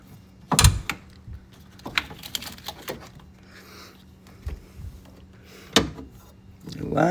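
An AC hose is worked loose on a 2018 GMC Yukon: scattered metallic clunks, knocks and brief scrapes ring out close by, separated by quieter stretches of fiddling.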